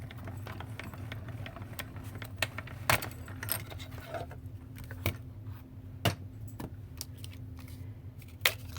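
A paper sandwich of cutting plates and designer series paper is cranked by hand through a die-cutting machine, giving faint mechanical clicks, ratcheting and small clacks over a low steady hum.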